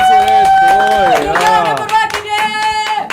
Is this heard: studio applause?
yes